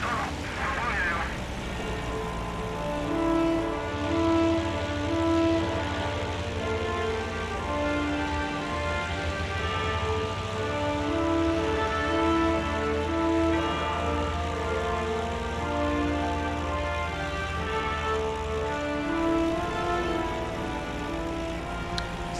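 A WWII aircraft in the Il-2 Great Battles flight sim taxis along a runway, its engine a steady, low, droning hum that builds after a few seconds and runs on under someone talking.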